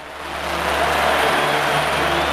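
A helicopter flies in over a nighttime party crowd in the stands after the lights go out, its steady engine and rotor roar swelling slightly and then holding loud and continuous, with no talking.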